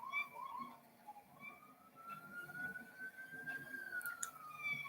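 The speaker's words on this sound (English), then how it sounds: "We don't need the siren." A distant siren wails in a slow rising and falling tone, faint beneath low background noise and a few brief chirps.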